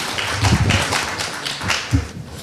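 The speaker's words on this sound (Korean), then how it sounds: "많은 박수 부탁드립니다" An audience at a school speaking contest applauds, a dense patter of many hands clapping at moderate distance that stays steady throughout, with no voices over it.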